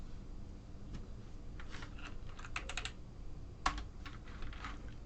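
Keystrokes on a computer keyboard while code is entered in Visual Basic, scattered clicks with a quick burst in the middle and one sharper tap, close and fairly quiet, no talking.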